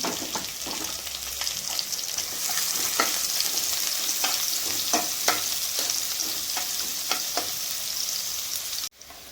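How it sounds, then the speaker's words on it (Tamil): Chopped onion fries in butter in a pan for creamy pasta, a loud, continuous close sizzle broken by irregular scraping stirs, ending with an abrupt cut. "வெங்காயம் வந்து ஒரு குட்டியாக ஒரு வெங்காயம் கட் பண்ணியிருக்கேன். அதையும் ஆட் பண்ணிடுவோம். நல்லா ஃப்ரை ஆகட்டும்."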